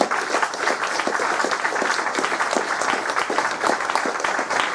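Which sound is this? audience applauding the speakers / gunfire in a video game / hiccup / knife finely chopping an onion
audience applauding the speakers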